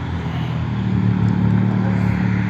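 A car pulls out and drives away outdoors beside a fenced property, its engine a steady, fairly loud low rumble that builds slightly and holds through the moment, with no talking.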